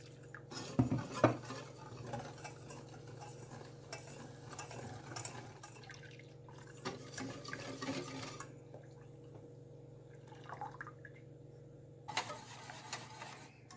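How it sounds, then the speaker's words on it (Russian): A spoon stirs custard cream of milk, sugar and cornstarch in a pot over medium heat, with quiet scraping and clinking against the metal, a couple of sharper knocks early on and faint bubbling between strokes. "На среднем нагреве, постоянно помешивая, довожу крем до кипения."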